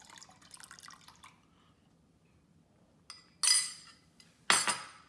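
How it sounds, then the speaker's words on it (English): Citric acid solution pours into milk in a few short splashing bursts with clinking, after a quiet stretch; no talking. "I'm going to add it to the milk here."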